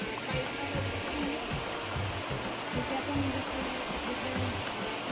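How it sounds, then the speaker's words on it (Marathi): A flowing stream of water in the Konkan countryside, a steady close-by rushing babble that continues evenly throughout. "पाण्याचा ओढा आहे."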